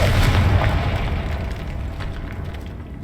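A Confringo spell explodes in the video game Hogwarts Legacy, a loud, dense, low booming burst with rumbling debris that gradually fades over about three seconds.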